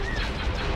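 A burst of frigate cannon fire in the space strategy game Empire At War, heard as a loud, dense, booming blast that fills the short moment without a break.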